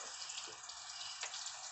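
Water pours steadily into a container, a continuous bright hiss with a faint splash near the end, close and moderately quiet.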